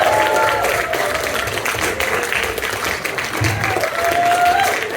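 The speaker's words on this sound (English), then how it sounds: "If you guys can start clapping and cheering" An open-mic stand-up comedy crowd claps and cheers to welcome a comedian onstage, a steady wash of close applause with a few whoops and voices rising through it.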